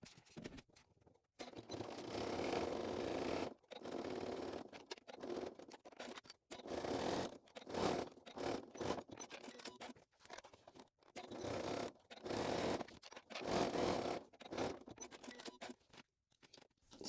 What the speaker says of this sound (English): now I'm going to stitch along the bottom to hold that in place with my top stitching